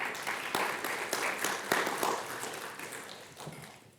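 Students in a university lecture hall applaud, a dense, moderate patter of many hands with a few sharper claps standing out, tapering off gradually over several seconds.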